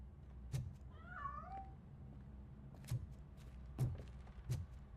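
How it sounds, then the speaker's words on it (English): A cat in Robocop: Rogue City gives a short, rising meow, heard faintly alone, followed by a few soft thumps and taps spaced over the following seconds. "That cat must be hiding inside."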